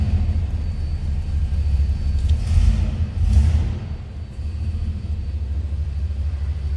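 A 1964 Oldsmobile 98 Convertible engine runs with a steady low rumble throughout, briefly swelling louder as it revs before settling back to an even idle.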